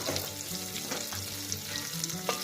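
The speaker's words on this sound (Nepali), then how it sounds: "प्याज चाहिँ हल्का गोल्डन ब्राउन नहुन्जेल हामीले यसलाई भुट्छौँ" Onions frying in a pan while a chicken curry is prepared, a steady close sizzle with soft stirring scrapes throughout and no voices.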